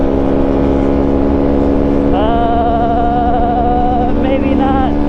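A TaoTao 140cc dirt pit bike engine drones loudly and continuously while riding, with a rising whine partway through as it revs, heard close throughout.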